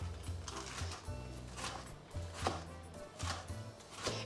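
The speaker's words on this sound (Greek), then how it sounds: "τώρα μείνανε οι πιπεριές, τις οποίες τις κόβουμε στα δύο" Knife cutting bell peppers in half on a board while preparing pork belly with giant beans, giving a series of quick close chopping taps spread across a few seconds, with a low mechanical hum underneath.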